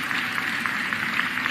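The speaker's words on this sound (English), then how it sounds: "give them a round of applause for all of their work" An audience at a mayor's State of the City address applauds Congress members, a continuous even roar of clapping from a large room, moderately loud with no single claps standing out.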